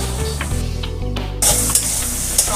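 Vegetables and chopped carrot sizzle in a hot frying pan for vegetable noodles, a steady hiss that rises a little partway through, with background music playing throughout.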